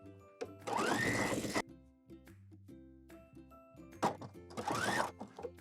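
A sewing machine stitching a bodysuit in two short bursts of fast whirring stitches, separated by clicks and thunks of handling the fabric and machine, close up.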